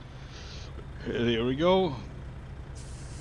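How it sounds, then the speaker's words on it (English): Engine brake on a Peterbilt 379 truck in American Truck Simulator, a rising and falling throaty rumble lasting about a second in the middle, with someone talking quietly before it. "Not supposed to use the Jakes, especially not if it sounds like this"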